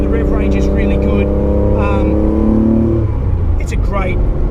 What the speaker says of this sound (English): Very happy with the response of this engine